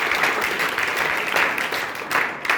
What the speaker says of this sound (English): a big round of applause for Devlokji